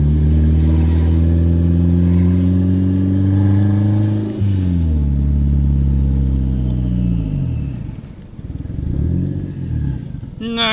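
Turbocharged Mazda 3 engine droning loudly and steadily while driving, with rising and falling pitch as it accelerates and shifts, a low rumble throughout and a person talking over it.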